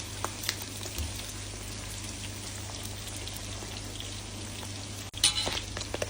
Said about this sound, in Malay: Goreng paru sehingga garing.